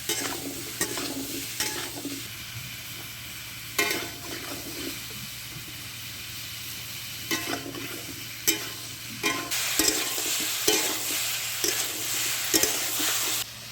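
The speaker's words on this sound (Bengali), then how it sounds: "আলু, গাজর একসঙ্গে ভেজে নেব।" Potatoes and carrots, with pumpkin and cauliflower, frying in a pan with salt and a little turmeric: a constant sizzle broken by repeated sharp scrapes and clatters of a spatula stirring, fairly close and with no talking.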